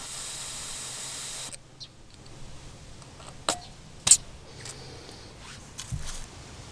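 Air hisses out of a car tire valve stem in a steady stream for about a second and a half, then stops, followed by a few sharp short hisses and clicks as the valve is tapped again.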